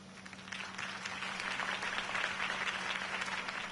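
Crowd applause after Harvey Dent's campaign speech in Batman The Telltale Series, a sustained, fairly distant wash of clapping that swells slightly and holds steady under a faint low hum.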